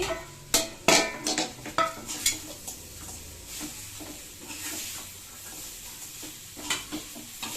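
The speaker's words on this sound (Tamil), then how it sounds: "சிக்கன் சேர்த்தாச்சு." Chicken stir-frying in a pan for noodles, with a spatula scraping and clanking against the metal in bursts over a continuous sizzle, close up, no talk.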